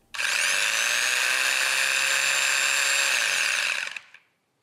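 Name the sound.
electric sander sanding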